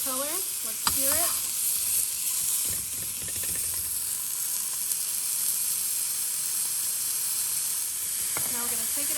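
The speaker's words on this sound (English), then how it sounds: "Let's sear it." Pork chop searing in a hot pan gives a steady, close sizzle and hiss that runs the whole time, with a few brief voice-like tones breaking in near the start and end.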